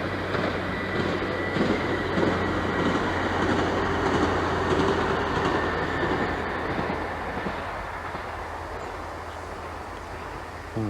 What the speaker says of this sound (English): Oh, there's a bloody train going past.